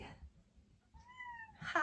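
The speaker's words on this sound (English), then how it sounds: "Cat!" A cat gives one clear, drawn-out meow in the middle, fairly close but soft, framed by low background noise and a brief voice at the end.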